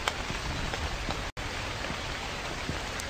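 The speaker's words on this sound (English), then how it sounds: "Raining outside, I'm getting all wet." Steady rain falls outside in The Convenience Store horror game, a dense, even hiss of drops with one brief dropout partway through and no voices.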